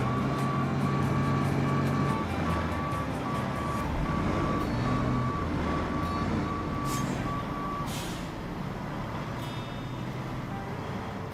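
A truck in Road Craft backs up with a regular series of loud reversing beeps over its rumbling engine, with a couple of sharp air-brake hisses near the end.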